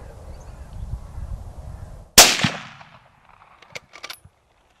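A single sharp straight-pull rifle shot fired at a fallow deer during a stalk, a loud crack over quiet outdoor ambience that tails off into a brief echo, followed by faint scattered clicks and rustles.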